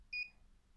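A single short electronic system beep from an MPM-100 multi-pigment meter, a clean two-tone chirp lasting about a fifth of a second over a quiet background hum.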